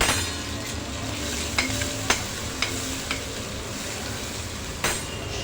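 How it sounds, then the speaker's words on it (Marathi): Crushed green chili, ginger, coriander and asafoetida sizzle in hot oil with a steady close hiss, broken by a few sharp clinks of a spoon stirring against the pan. "हिरवी मिरची आलं आणि कोथंबीर असं ठेचा केलेला आहे तो टाकणार आहोत हिंग टाकलं पाव चमचा"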